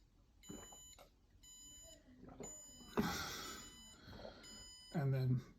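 A high electronic alarm beeps in short repeated bursts, with pauses between, while a person talks over it and briefly near the end.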